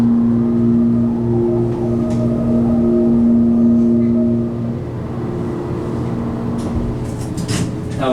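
A Montgomery hydraulic elevator motor runs in a lobby at Disney's Boardwalk Resort, giving a steady, loud mechanical hum with a tonal whine that drops away partway through, leaving a rougher rumble. No one speaks.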